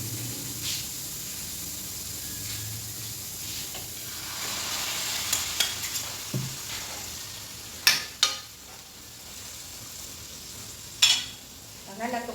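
String beans and chicharon stir-frying in a pan, a soft continuous sizzle with a few sharp scraping and clattering stir strokes near the end.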